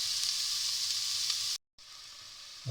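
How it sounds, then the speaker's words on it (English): Meat browning in a pan for scouse, a steady loud sizzle and fry close by that cuts out briefly partway through and then resumes, with no talking. "I don't want to cook the meat, I just want to brown it."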